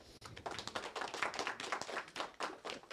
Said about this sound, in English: Big round of applause for Grzesiek.